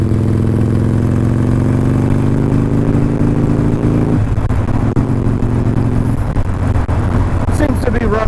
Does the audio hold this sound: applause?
no